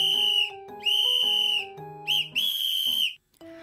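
Shrill trilling whistle blasts sound in several bursts, alternating with lower tones, loud and close.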